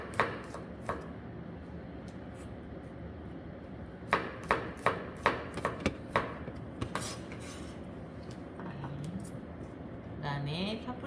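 Garlic being sliced with a knife on a cutting board: a run of about eight crisp, evenly spaced chops close by, followed by lighter taps and a brief rustle, with a voice speaking around them.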